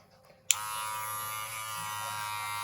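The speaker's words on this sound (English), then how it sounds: "we can put the grade 3, like the next grade up, onto the clippers, and we can carry on working up and scooping out" Electric hair clippers fitted with a grade 3 guard switch on abruptly with a click and then run in a steady, close, continuous buzz with no talking.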